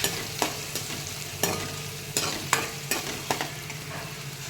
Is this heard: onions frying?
yes